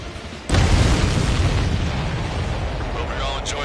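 A sudden heavy boom opens into a sustained roaring, crackling rumble of explosions in the combat flight video game Ace Combat 7: Skies Unknown, loud and continuous throughout.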